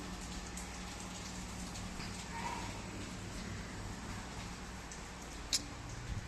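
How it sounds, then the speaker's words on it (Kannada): Rain falls in a steady, soft hiss and patter that holds evenly throughout, with a faint tap near the end. "ಅವಾಗೇ ಮಳೆ ಶುರು ಆಗಿದೆ."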